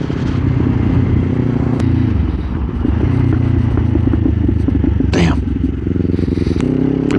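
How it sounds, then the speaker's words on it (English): A 2024 Kawasaki Ninja 500 ridden on the road, its engine a loud, steady low drone that climbs and drops with the throttle, with wind buffeting, a couple of sharp clicks and a brief spoken exclamation. "It probably sounds like a much more aggressive bike than it actually is"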